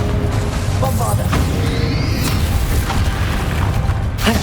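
Bombarda spell blast in Hogwarts Legacy during a dragon fight, a loud booming explosion with deep rumbling and sharp crackling bursts, layered over dense battle effects that continue throughout.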